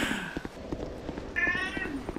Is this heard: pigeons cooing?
no